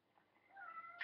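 A pet cat gives a single short, faint, rising meow that ends in a slightly louder cry, heard alone in a quiet room.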